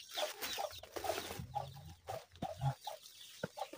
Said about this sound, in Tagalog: Parang manok na ihalas.